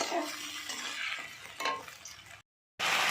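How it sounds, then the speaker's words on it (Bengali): A spicy paste of ground garlic, onion, tomato and chili sizzles in hot oil while a spoon stirs and scrapes the pan, steady and close, for prawn curry, with a brief silent gap before the frying resumes. "দিয়ে মশলাটা তেলের উপরে দিয়ে দিচ্ছি।"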